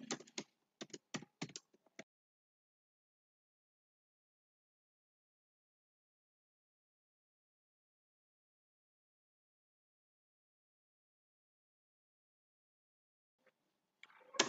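Quick bursts of computer keyboard typing rattle out for about two seconds as clustered clicks, then give way to near silence until a faint stir returns at the end.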